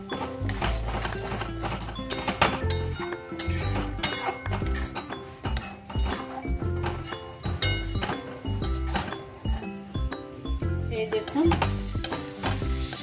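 Ground cumin and spices being stirred and fried in a pan, with repeated scraping, clinking strokes of a spoon against metal over a steady sizzle, close up throughout.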